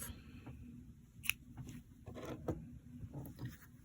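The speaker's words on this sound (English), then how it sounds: "I'm going to cut off," Scissors snip yarn during crochet work, a few sharp close clicks and small handling rustles against a quiet background, with no voices.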